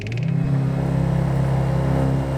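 Cupra Leon 300 TSI hatchback doing a launch start with traction control off and a brief wheel spin, its engine roaring loud and close with a steady deep growl as it accelerates hard.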